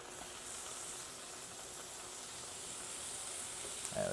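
A halloumi burger patty fries in a pan with a steady, fairly quiet hiss that holds evenly throughout, ending with a small clink.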